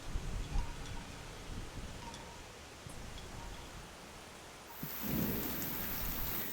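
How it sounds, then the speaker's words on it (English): Thunderstorm with steady rain hissing on surfaces, low rolling thunder rumbles building near the end, heard outdoors at a moderate distance with no voices. "A storm is coming,"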